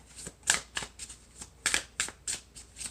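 Tarot cards being shuffled, a series of quick crisp riffling bursts with short pauses between them, close and fairly quiet, no talking over it.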